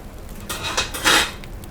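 Metal baking pan of freshly baked hardtack lifted out of a home oven, giving a few short clattering metallic scrapes and clanks, close and moderately loud, with no talk.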